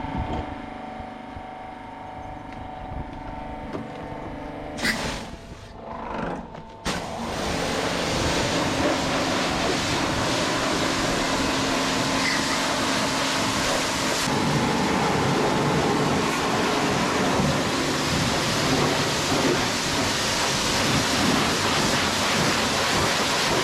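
Pressure-washer water spray hisses steadily while a tractor is washed on a livestock farm. The broad, even spray briefly drops out and sputters about five seconds in, then runs on continuously and loud.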